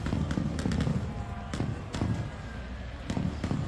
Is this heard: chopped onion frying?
no